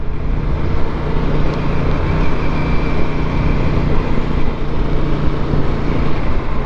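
An Aprilia RS457 motorcycle engine at speed on the Nürburgring, a loud continuous drone of engine and wind roar with a steady tone and no gear changes, heard from on board.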